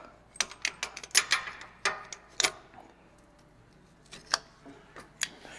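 A cutting tool snips through heater core coolant lines on a Peterbilt 359 truck in a run of sharp, close clicks and crunches, with pauses between bursts.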